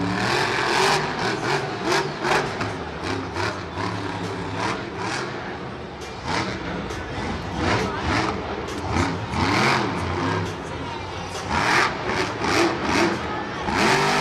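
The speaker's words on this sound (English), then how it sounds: "This truck sounds good because it's got those MagnaFlow collectors on it instead of the regular ones." A Monster Jam monster truck fitted with MagnaFlow collectors revs inside MetLife Stadium during a 2013 show, its engine rising and falling in loud, repeated bursts that fill the arena.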